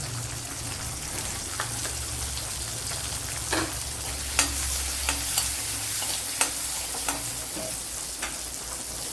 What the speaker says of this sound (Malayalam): അപ്പോഴൊരു 15 കൊച്ചുള്ളി ഇട്ട് കൊടുക്കുക.